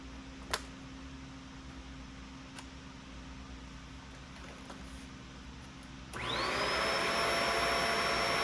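A Bissell Pet Hair Eraser vacuum cleaner, with a cleared clog, switches on after a low idle hum and a few faint ticks, then runs as a loud, steady whirring roar until the end.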